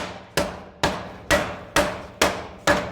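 Six evenly spaced hammer strikes ring out loud and close as sheet metal is flattened for a dragon head sculpture. Each crisp metallic impact decays quickly before the next blow.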